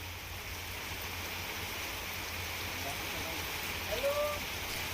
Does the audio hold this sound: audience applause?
no